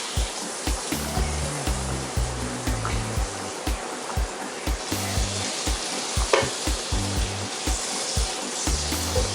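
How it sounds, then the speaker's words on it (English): Butter melts in a hot pan with a constant crackling sizzle. Soft rhythmic scraping and bumping of utensil against the pan repeats throughout, with no voices. "So I'm going to melt the butter."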